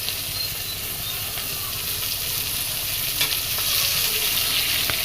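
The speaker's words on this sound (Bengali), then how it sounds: "তো মা মাছ ভাজা করছে" Fish frying in a pan, a loud, close, continuous sizzle and spatter with faint stirring, steady throughout and swelling slightly toward the end.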